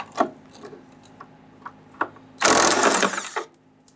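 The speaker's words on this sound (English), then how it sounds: "we can now go ahead, loosen and remove that 3rd bolt or nut here." A hand tool works a nut loose beneath a 1997-2006 Jeep Wrangler fuel tank, giving a few sparse clicks and then a dense, loud burst of rasping ratchet turns that fades out.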